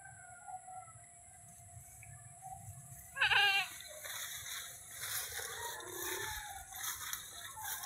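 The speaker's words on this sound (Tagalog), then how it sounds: "Dami na kambing." Goats bleating, mostly faint and distant over soft background hiss, with one louder, nearer wavering bleat partway through and a few quieter calls after it; no talk.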